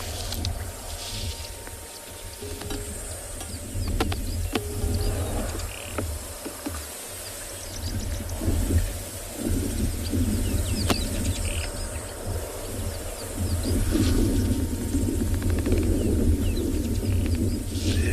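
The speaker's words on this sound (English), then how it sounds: "Just listen to the birds calling." Birds call steadily at sunset on an African safari over a low rumbling background, scattered chirps and calls continuing throughout, fairly distant, with no talking.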